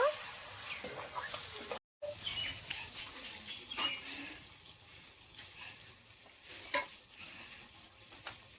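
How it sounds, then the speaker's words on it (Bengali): Spice paste sautés with potatoes for a banana kofta curry made without onion or garlic: a soft sizzle with scraping stirs, a brief silent gap, then quieter sizzling broken by a few sharp clanks of the spoon. "আমি ভালো করে মশলাটা কষিয়ে নেবো আলুর সঙ্গে।"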